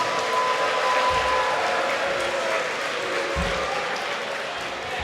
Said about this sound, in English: Another round of applause for the Senate officers.